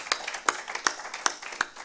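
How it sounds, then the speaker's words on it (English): Five sharp, evenly spaced hand claps from a convention audience in Kenya Diaspora Homecoming hall, roughly one every 0.4 seconds, fairly faint and without talk. "Give him another round of applause."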